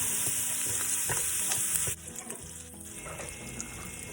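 Garlic frying in a pot for Portuguese bean soup, a bright steady sizzle with stirring scrapes; the sizzle drops sharply partway through, leaving softer crackles.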